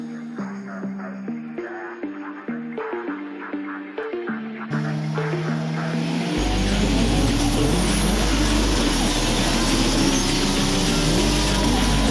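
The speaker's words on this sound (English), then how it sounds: "Racers get away clean and it looks like Monster is nosing out on Shoddy and PWC Racing." A start sequence of evenly spaced tonal beeps gives way to a loud, sustained roar as a pack of race cars speeds off the line together, with engine pitch climbing as they accelerate away.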